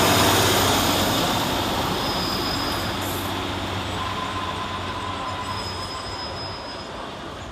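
A Transport for Wales train arriving at Cardiff Queen Street station, wheels rumbling and squealing on the rails as it rolls in close by, slowly fading in loudness, with no talk.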